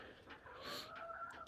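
An Americana hen clucks softly near the nesting boxes, a faint, brief series of low clucks and a short rising call in a quiet coop.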